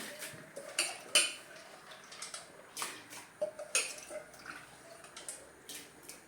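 Toor dal lentils being washed in a pot of water, with clinks and scrapes of metal, light splashes and drips coming in irregular bursts up close.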